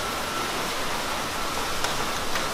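Rain pours down in a dense, even wash of noise, a steady downpour with no voices and no breaks.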